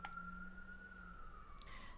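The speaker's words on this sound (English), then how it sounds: "don't mind the sirens in the background" A distant emergency vehicle siren on a Brooklyn street carries as a faint, steady, slowly drifting tone behind quiet room background.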